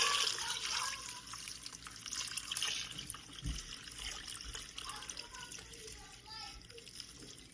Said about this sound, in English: Now we're going to pour our distilled water